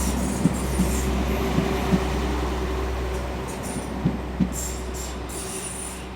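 A Class 197 train rumbles past at steady volume in Llandudno, Wales, a low continuous roar of engine and wheels with faint clicks and brief squeals near the end.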